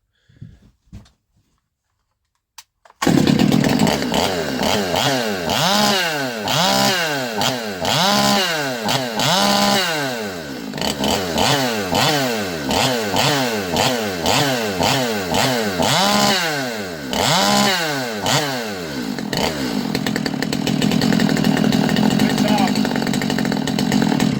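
A freshly tuned Stihl MS200T chainsaw starts after a few pull clicks and runs loud and close, its two-stroke engine repeatedly revving up and dropping back to idle in rhythmic throttle blips, then holds a steady high whine.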